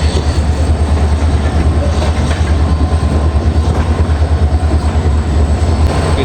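Train 15664, the Agartala Express from Silchar, rumbles steadily at Dharmanagar station, a loud, close, continuous roar with rhythmic clatter from the carriages and no voices.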